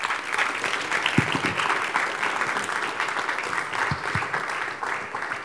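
Audience applause after a speech at a capital market education event in Takoradi, a steady roomful of clapping that holds evenly throughout with only faint traces of voices underneath.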